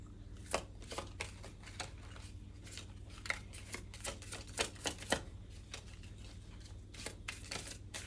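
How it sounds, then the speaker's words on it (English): Crisp riffling and snapping of a tarot card deck being shuffled, a run of sharp flicks and soft slaps at an uneven pace over a low steady hum. "One more shuffle."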